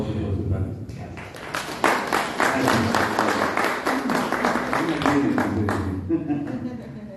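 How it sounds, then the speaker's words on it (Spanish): Audience applause at a decolonial communication conference in Latin America, a sustained wash of clapping that swells and holds for several seconds, with voices and crowd murmur mixed underneath. "Un aplauso por su participación."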